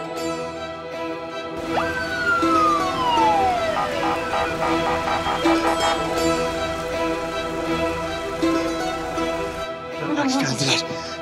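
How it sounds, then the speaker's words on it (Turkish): A siren wails in a long falling sweep, then pulses in a steady yelp over busy background noise and some talk, ending in a brief rising swoop. "Zehra, sen yine de ambulansı da çağır."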